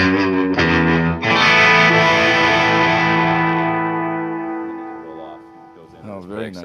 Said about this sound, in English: there's a delay that comes in and a big reverb